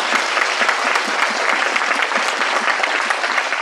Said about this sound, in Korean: 이때는 하나님께 정말 영광의 박수를 돌려야 돼요.